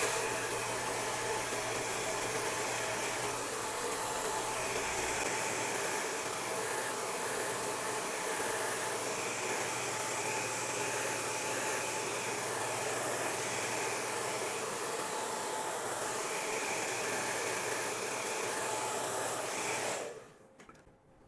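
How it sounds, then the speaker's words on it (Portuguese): A steady, loud blowing whoosh of a hair dryer drying a client's hair runs without a break, then cuts off abruptly near the end. "O secador ele vai vir aqui pro lado de baixo"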